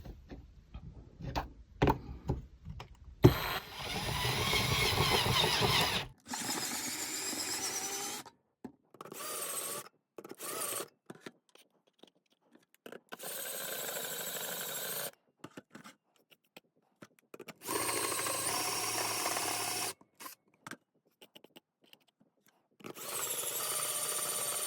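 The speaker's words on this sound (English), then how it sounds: "So I'm not really happy with the results of the stepper drill, because I feel like the more deeper it goes," Stepper drill bit boring out and widening a hole in a BMW i8 front license plate bracket, running in several loud whirring bursts of a few seconds each, broken by short pauses and quieter clicks.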